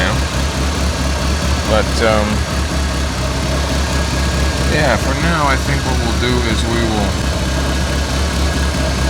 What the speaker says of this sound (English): It does have a bit of an exhaust leak.